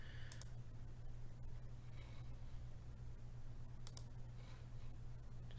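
Computer mouse clicks while browsing an online photo collection, two or three sharp, faint clicks spaced over a few seconds against a steady low hum.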